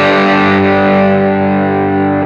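Electric guitar is pushed through a Shift Line Twin MkIIIS tube preamp with the gain cranked and cabinet simulation, giving one thick, heavily overdriven chord that rings out and slowly decays, loud and without talk.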